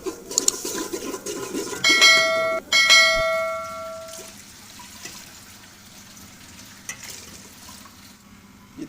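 Water poured into a cooking pot of browned ingredients for cauliflower rice: a splashing, sizzling rush with ringing metallic clinks in the first few seconds, fading to a quiet simmer.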